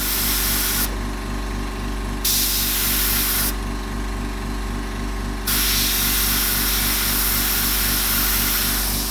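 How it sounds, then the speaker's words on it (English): Steady hissing spray from an airbrush, broken into short bursts with brief pauses, over a constant low motor hum. "Just by spraying through the stencil."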